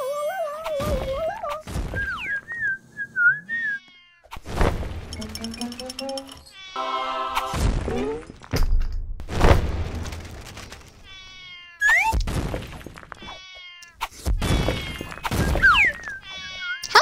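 Cats in the video game Book of Monsters meow over and over, with repeated varied meows and yowls mixed with thuds and clinks, while players talk.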